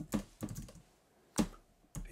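Keystrokes on a computer keyboard, four soft close clicks in short uneven bursts separated by quiet gaps, no talking.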